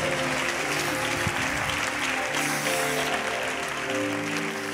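A church congregation bursts into loud, sustained applause for an interpreter during a worship service, dense steady clapping from many people filling the room.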